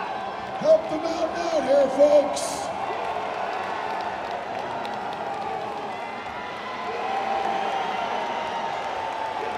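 A strongman event crowd in an arena, a broad steady roar of cheering and shouting to urge on the athlete, with an announcer talking over it.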